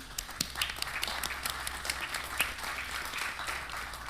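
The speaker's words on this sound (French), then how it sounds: "Merci beaucoup Jean-Baptiste, on vous applaudit" An audience applauding a speaker at a talk on digital mediators and advisers, steady dense clapping from a crowd at moderate distance, continuous throughout.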